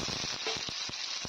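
Potato pieces fry in hot mustard oil with dry red chilli and cumin for a cabbage dish, a steady close sizzle broken by a few soft stirring scrapes over just over a second.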